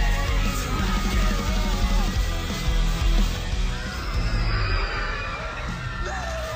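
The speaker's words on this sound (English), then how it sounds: "we're gonna be surrounded by screaming" An excited crowd of fans yells and whoops in a dense, loud mass of overlapping shouts, with occasional bangs and no clear single voice.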